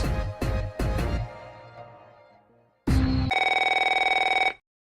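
A retro telephone rings in the video game Neofeud 2: a few loud bell strikes decay away, then after a short gap a steady, continuous electronic ring sounds for over a second before cutting off, with no talking.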